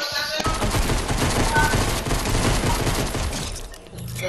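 Dense, rapid automatic gunfire in a shooter video game: continuous loud bursts of shots crackle close by for several seconds, then thin out toward the end.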